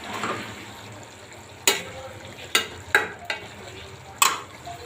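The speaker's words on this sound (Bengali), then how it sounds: "আমি এই যে ডিম ভাজা দিচ্ছি" Egg frying on top of fish in a pan gives a soft continuous sizzle, cut by four or five sharp taps and clinks of a utensil against the pan, heard close with no speech.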